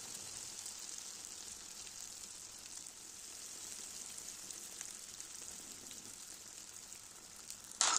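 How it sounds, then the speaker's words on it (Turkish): Potato pişi dough fries in about a glass of hot vegetable oil, giving a steady, soft bubbling sizzle that carries on evenly, with a brief louder crackle right at the end. "Yağ ısındıktan sonra hamuru kızartmaya başlıyorum."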